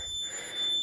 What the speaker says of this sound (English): The Murcielago is pretty infamous for just making beeping noises all the time.